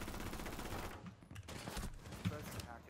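Rapid automatic gunfire in a first-person shooter match, bursts of shots crackling over a dense game mix while a player talks over it.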